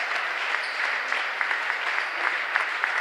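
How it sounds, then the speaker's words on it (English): Basketball fans of the Monticello Sages clapping in Miller Gym on a Friday evening near the close of a varsity game, steady dense applause filling the gym without speech. "Monticello faithful are clapping."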